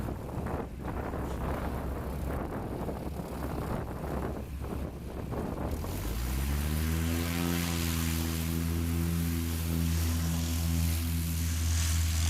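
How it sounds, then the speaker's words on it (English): A Cessna 172 propeller airplane with a checker tail, recorded live at a STOL practice event at airfield 42VA, sits under wind noise at first, then its engine rises into a loud, steady droning hum with strong harmonic tones. "we've got this checker tail Cessna, I'm going to guess 172."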